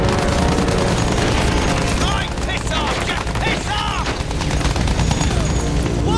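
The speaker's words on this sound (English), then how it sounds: "another bomb went down" Battlefield 1 combat sounds: rapid gunfire crackles continuously alongside heavy bomb blasts and booms, loud and dense throughout, with a voice talking over the battle.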